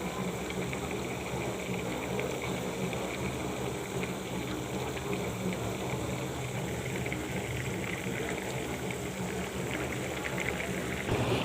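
Tomato fish curry gravy, made with little oil, bubbles in a pan as a continuous soft hiss and simmer, close up and unbroken, with no voices.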